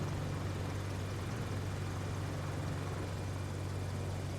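KwikFlight AH-64 Apache helicopter in Microsoft Flight Simulator 2024 lifting off, a loud continuous rotor and turbine drone with a deep steady hum, close and unbroken throughout.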